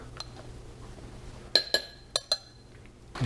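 Several bright glass clinks from stirring food in a glass container during a freeze-drying rehydration, four sharp strikes in two close pairs over a quiet room background.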